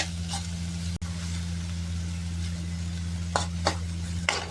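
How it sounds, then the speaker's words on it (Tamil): Cabbage and onion sauté in a hot pan for a tava burger, giving a steady low sizzle with a constant hum beneath. A sharp click comes near the start, then a few brief scraping stirs toward the end. No one speaks. "இன்னும் கேபேஜ், ஆனியன் வதங்கணும்."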